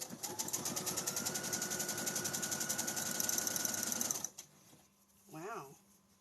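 Close, loud sewing machine stitching along a small fabric edge in a fast, even mechanical chatter, stopping abruptly, followed by a brief spoken remark.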